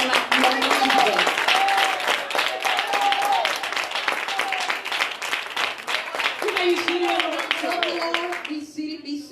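Church congregation clapping steadily throughout, a dense, continuous patter of many hands, with a preacher speaking loudly over it until it fades near the end.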